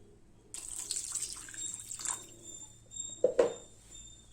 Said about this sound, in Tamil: இப்போ இதில் பச்சை தண்ணி கொஞ்சம் ஊற்றி லேசாக இந்த மாதிரி வடிகட்டி விட்டுருங்க